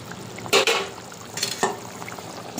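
Fish curry gravy for catfish jhol simmering in a pan, a soft bubbling hiss throughout with a couple of louder stirring clatters near the start and middle.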